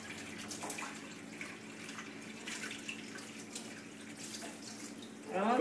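A tap runs into a sink while a child washes dishes, a soft continuous hiss of water with faint clinks and a louder splash at the end.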